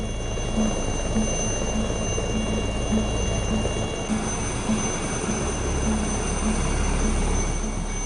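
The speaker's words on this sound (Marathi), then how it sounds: "पायलट्स कॅज्युअल्टी इव्हॅक्युएशनला आलेले असताना हेलिकॉप्टरचं इंजिनही सुरूच ठेवतात" Helicopter engine kept running during a military casualty evacuation, a steady loud mechanical roar with a rhythmic low rotor pulse throughout, close by and with no talk.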